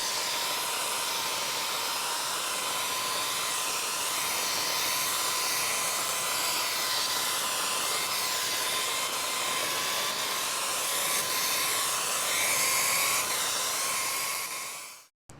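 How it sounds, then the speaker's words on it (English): Paint sprayer spraying lumber for a porch railing, a steady loud hissing rush with a constant motor whine, running continuously close by before cutting off at the end. "I'm gonna go through and paint spray all this."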